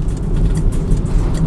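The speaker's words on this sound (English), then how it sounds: "brakes feel fine, pulls up lovely and straight, doesn't pull to the left or the right" A Peugeot Partner 1.4 LPG van brakes and pulls up, with a loud, continuous engine and road rumble heard from inside the cab throughout.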